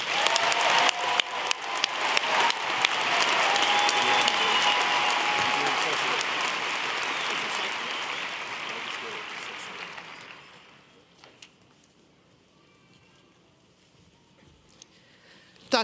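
Graduates at a BYU convocation for the College of Family, Home, and Social Sciences are greeted by a crowd's loud, sustained applause that slowly fades over about ten seconds, then gives way to near silence with a few stray claps.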